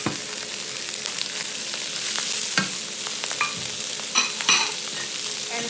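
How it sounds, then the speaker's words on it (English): Sausages and bean sprouts stir-frying in very hot oil for char kuay teow, a loud steady sizzle with scraping stirs and clatter of the utensil against the pan, no voices. "The oil is very, very hot, so everything goes in really quickly."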